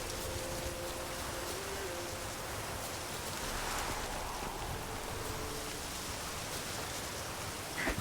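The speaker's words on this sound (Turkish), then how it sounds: "Looks like rain." Steady rain pours throughout a swampy area in The Witcher 3: Wild Hunt, a dense even hiss with faint tonal ambience beneath and no talk.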